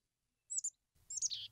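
Wild birds in a Sierra Nevada forest give two short bursts of high chirping calls, a brief pair first and then a longer trill. They sound clear and isolated against near silence.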